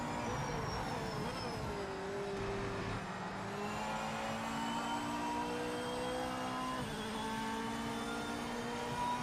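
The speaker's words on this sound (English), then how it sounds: "see how quick this Porsche is" A Porsche race car in the racing game Project Motor Racing, its engine droning steadily at high revs with rising and falling pitch through gear changes, loud and continuous throughout.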